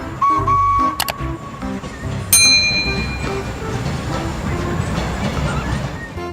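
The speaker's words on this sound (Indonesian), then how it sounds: "Kereta Thomas warna hijau." A green Thomas toy train runs with clattering, rolling noise, a sharp whistle-like tone and a bright ding, fairly loud and close.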